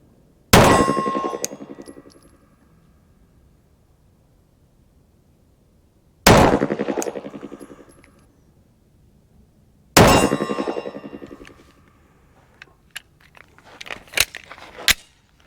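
Three 9mm pistol shots strike steel targets, each a sharp crack followed by a bright ringing clang that fades over a second or two, spaced several seconds apart outdoors, then a run of smaller metallic clinks.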